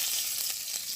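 Whole garlic frying in hot oil produces a continuous, close, bright sizzle with faint crackles throughout.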